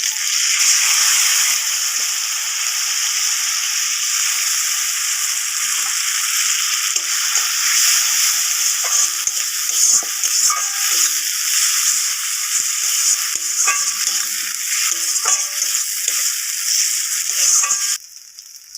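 Cashew and raisin paste sizzles steadily in a hot pan while being stirred, a continuous loud frying hiss with faint scraping, no voices.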